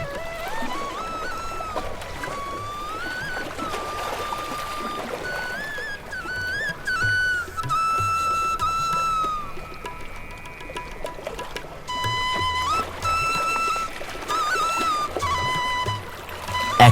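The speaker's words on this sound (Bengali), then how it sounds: "নদীতে মাছ ধরা ক্ষান্ত দিয়ে এবার রহিম মাঝি নৌকা চালিয়ে ওই পার গেল" A cartoon rowing boat crosses a river at night, with whistling, tonal sound effects gliding and stepping over a soft watery wash, steady and fairly loud, no voices.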